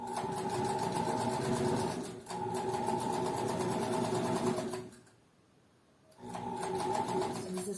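A sewing machine hums and rattles loudly and continuously while stitching a pocket onto a garment, pausing briefly twice, including a near-silent gap of about a second, before resuming.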